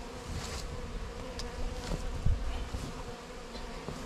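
Honeybee swarm lodged in an attic, a steady close buzzing drone of many bees throughout with a few brief louder passes, no talking.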